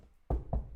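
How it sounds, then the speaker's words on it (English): Two hollow knocks of knuckles on wood, close and distinct, about a quarter second apart, in an otherwise quiet room. "That's the sound of me knocking on wood."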